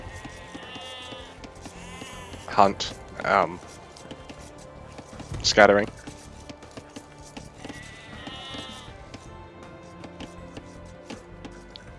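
Sheep in the strategy game Age of Empires bleat in three short, wavering calls at moderate volume, two close together and a third a moment later, over a steady game soundscape while a commentator keeps talking.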